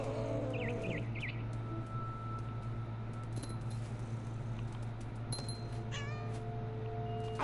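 A cat in the video game What Remains of Edith Finch meows several times, short rising calls near the start and again near the end, over a constant low game hum.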